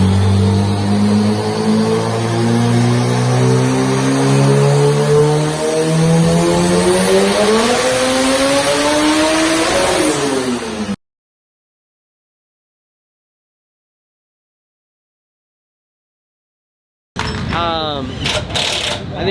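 A 1,400-horsepower Mitsubishi Evo drag car launches at about 5,500 rpm on partial throttle, its engine roaring loudly and climbing steadily in pitch for about ten seconds. Silence follows, then another short, loud engine burst.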